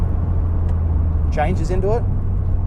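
A Mitsubishi Evo X drives and turns around, its engine a steady low hum close by while someone talks over it.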